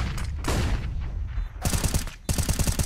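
Rapid gunfire bursts from a Counter-Strike esports match, volleys of automatic shots crackling in dense clusters with short pauses, loud and close throughout.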